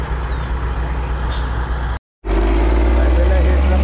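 Heavy trucks roar past on a highway in a loud, continuous low rumble that fills the clip, broken by a brief silent cut before the traffic noise resumes just as strongly.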